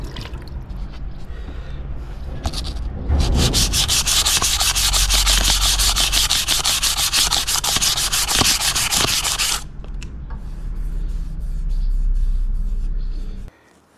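Steady, fast back-and-forth rasping of 600-grit sandpaper hand-sanding a Kawasaki ZZR 1100 motorcycle frame, close up, running for several seconds before stopping, then resuming briefly.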